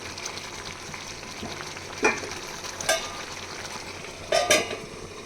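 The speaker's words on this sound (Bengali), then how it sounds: "ঢাকা খুলে দেখে নেব মাঝে মাঝে নেড়ে নিতে হবে বাদাম আছে তো নইলে কড়ার গায়ে লেগে যেতে পারে" Vegetables with peanuts frying in a pan (a kadai), a steady soft sizzle broken by a few brief scraping stirs of a spatula; close and moderately quiet, with no talking.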